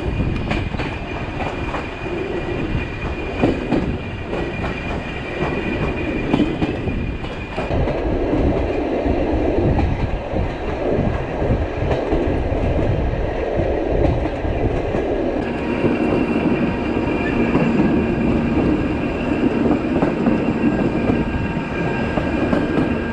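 Riding aboard a mixed freight-passenger train in Mongolia: loud continuous rail rumble with rhythmic clickety-clack of wheels and a steady droning tone, unbroken for the whole stretch with no talk.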